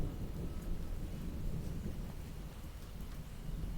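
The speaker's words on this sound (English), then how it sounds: "It is thundering." Thunder rumbles low and continuous through an Alabama storm, a deep rolling roar with rain and wind hiss, moderately quiet and without voices.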